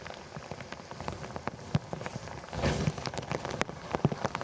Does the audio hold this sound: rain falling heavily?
yes